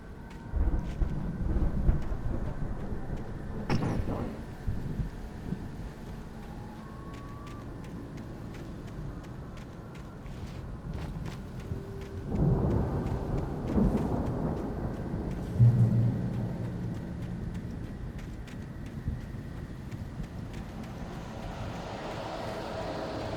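Thunderstorm in the horror game Alan Wake Remastered: steady rumbling wind and rain with a sharp crack near the start and a rolling thunder swell midway, loud and continuous.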